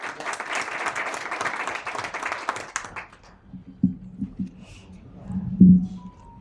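An audience at an annual seminar in Kuwait breaks into full, steady applause that lasts about three seconds, then thins to scattered claps and a few soft thumps in the hall.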